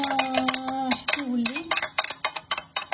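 A spoon clinks rapidly against the side of a cup while instant coffee is stirred by hand with water, with a steady burst of metallic taps and someone talking over the first part.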